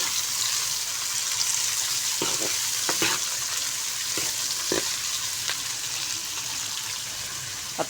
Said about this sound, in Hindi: अब हम प्याज को हल्का सा फ्राई करेंगे।